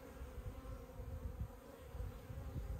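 Honeybees buzz steadily inside an open beekeeping hive on a homestead, a dense, continuous low drone with no talk over it.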